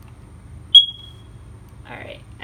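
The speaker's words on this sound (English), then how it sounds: "and it should chirp" A First Alert carbon monoxide alarm gives a single short, sharp chirp, followed by a voice starting to speak over a low background hum.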